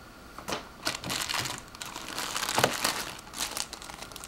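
Paper crinkles and rustles in close bursts as a small product document from an NZXT H2 Silent midtower PC case box is unfolded and handled, crisp and fairly quiet with no talking.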